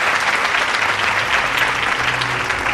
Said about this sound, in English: let's give Mr. Meade a round of applause